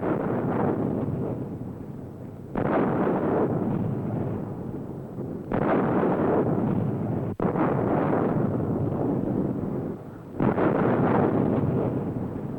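An MLRS rocket launcher fires a 6-shot ripple, each launch a sudden loud roaring blast of broad rushing noise lasting a few seconds, four sustained bursts back to back, heard from a distance with wind buffeting the microphone.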